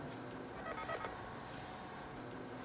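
A telephone number is dialed in a quiet scene, with faint beeping tones under a low steady background hum.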